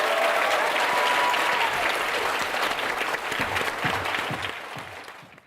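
An audience applauds steadily as an event wraps up, a dense, sustained clatter of many hands that holds for several seconds and then starts to thin and fade toward the end.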